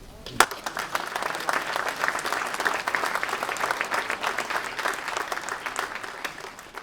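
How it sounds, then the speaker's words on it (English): Audience at an elementary school ribbon cutting ceremony breaking into steady applause, many hands clapping at a fairly close, even level for several seconds. "please give yourselves a round of applause for your perseverance"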